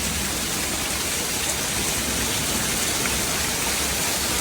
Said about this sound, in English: It is raining so hard that it's coming up on my patio.